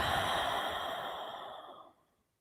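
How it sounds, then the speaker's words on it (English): A slow, deep exhale during a seated prayer-hands meditation, a soft breathy rush that fades out near the end, close and quiet with no talk. "we're going to take a nice deep breath in and out."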